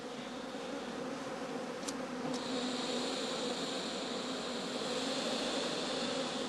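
Honeybees buzz around beehives in a late-autumn apiery, a continuous low droning hum at a moderate, even level, with a couple of brief higher-pitched whines passing close early on.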